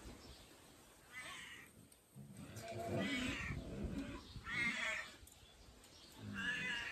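A cat meows several times in drawn-out cries, fairly close, with short pauses between calls over a quiet background.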